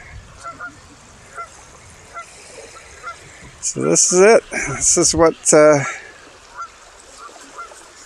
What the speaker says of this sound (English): Maybe you can hear the, I don't even know what those are. Geese. I think geese.